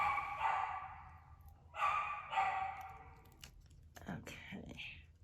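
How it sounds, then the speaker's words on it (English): A dog barks in short bursts, a couple of yips then a few quicker barks, fairly close in a quiet room. "Sorry for the barking."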